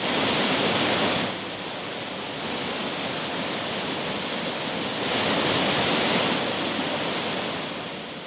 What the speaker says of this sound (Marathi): काहीसा आलेला क्षीण घालवणारा हा धबधबा तुम्हाला नजरेस पडतो.